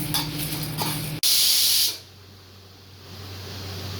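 A sudden loud sizzling hiss bursts as spices are dry-roasted in a hot pan, then fades to a quieter, steady crackle and low hum.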